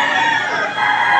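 Roosters crow at a cockfight venue while the gamecocks rest between matches, a dense, close burst of crowing and clucking filling just over a second.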